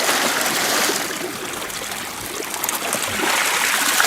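Creek water flows steadily around a sluice box set in the stream for gold prospecting, giving a loud, continuous rushing trickle close by with no voices.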